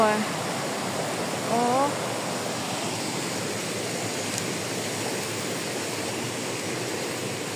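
Kawasan Falls pours as a loud, steady broadband roar of falling water that continues for the whole stretch, with a brief exclamation from a voice near the start.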